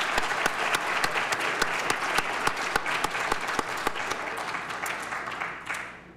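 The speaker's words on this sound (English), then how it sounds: "Let's have a round of applause for all of our contestants one more time." Audience applause for research competition contestants, a steady close wash of many hands with a few distinct sharp claps, fading out at the end.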